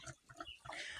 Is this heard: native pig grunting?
yes